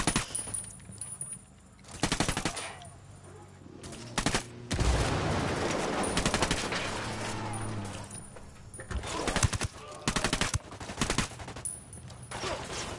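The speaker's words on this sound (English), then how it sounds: "Who's shooting? Stop shooting at me." Enemy gunfire in the video game Ghost Recon Wildlands crackles in sharp, loud bursts and rapid volleys separated by short gaps, with voices heard at times between shots.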